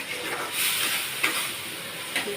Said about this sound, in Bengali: ভেজে রাখা সব চিংড়ি মাছটাই আমি এর মধ্যে দিয়ে দিলাম।